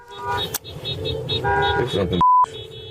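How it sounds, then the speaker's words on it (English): A car horn honks on a street near federal immigration enforcement agents, mixed with traffic noise and talking voices, and cut by a brief steady bleep tone. "Another vehicle is behind the agents, also honking the horn."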